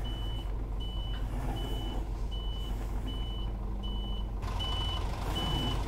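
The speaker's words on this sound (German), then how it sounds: "der hört sich auch kernig an, der 6-Zylinder." A Scania S500 truck with a six-cylinder engine in Euro Truck Simulator 2 holds a steady low engine drone, while a reversing alarm beeps at an even, regular pace over it for the whole stretch.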